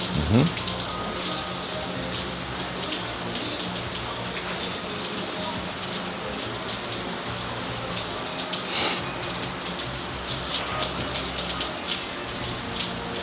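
Steady rain falls outdoors during a changeable Florida summer day, a continuous broadband hiss of drops on surfaces that holds an even level throughout, with no clear talk over it.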